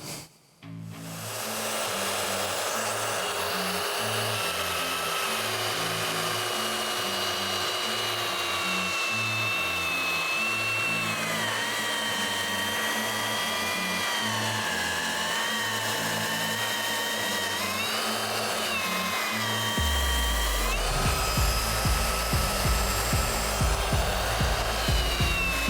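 DeWALT DCW220 cordless battery belt sander running at top speed, a steady loud whirring drone with a grinding rasp that rises in pitch and shifts as the belt works the surface, continuous and close with no talk.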